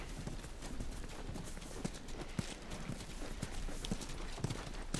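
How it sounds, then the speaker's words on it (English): Horse hooves clip-clopping in the video game The Last of Us, a steady, fairly quiet series of hoof strikes on hard ground over a low rumbling background. "You guys have horses."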